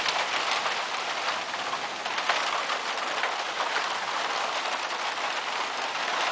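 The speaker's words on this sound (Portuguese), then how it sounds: "Que beleza de chuva." Steady rain pours down continuously, a dense even hiss of drops striking surfaces close by, with no talking over it.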